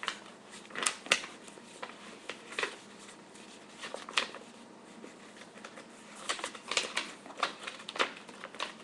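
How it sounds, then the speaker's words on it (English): Sheets of paper are folded, creased and flipped while making a paper balloon, giving close, quiet rustles and crisp crinkling bursts in irregular clusters with brief pauses between. "you hold the middle down and you flip it, like you fold it to this end"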